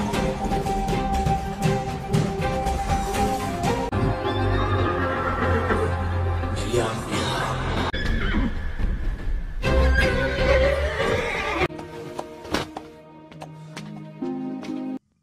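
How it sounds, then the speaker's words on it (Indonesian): Horse neighing and whinnying in a dramatic scene, loud and continuous, set among a dense bed of music and effects with no clear hoofbeats standing out. "Kuda itu berlari sangat kencang dan menuju ke arah Chani."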